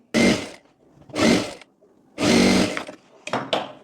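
A sewing machine stitching a Sabyasachi-style blouse runs in four short bursts separated by pauses, the last two quick and choppy, all close and clear.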